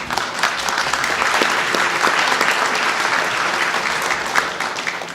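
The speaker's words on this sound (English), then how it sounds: "Let's give a big round of applause." A crowd at a Michigan veterans honors ceremony gives a big round of applause for Coast Guard service members, dense sustained clapping with individual sharp claps standing out, steady and loud throughout.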